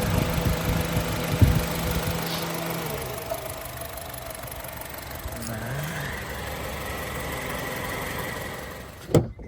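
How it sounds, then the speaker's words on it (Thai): A 2009 Honda City 1.5 SV engine idles steadily with a low rumble and a constant electric fan whir, no talking, ending with a short clunk. "มีสิ่งเครื่องยนต์นะครับผม เดินเรียบกริบ นะครับพัดลมไฟฟ้าทำงาน แอร์ทำงาน"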